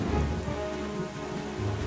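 Steady rain falling in The Legend of Zelda: The Wind Waker HD at night, a dense continuous patter with a low rumble underneath, no voices.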